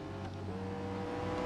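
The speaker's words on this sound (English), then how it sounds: "Right now, we're at the Nürburgring in a McLaren." McLaren 675LT engine at the Nürburgring in Real Racing 3, a steady tonal engine drone with a slight rise in pitch, faint and continuous over a short stretch.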